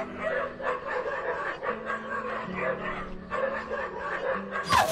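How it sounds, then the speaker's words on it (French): A dog named Pétou, the boss's dog, barks in a French audio drama set on a building's top floor, repeated yaps over a busy bed of music and effects, with a sharp burst at the end. "Ce serait pas Pétou, le chien du patron?"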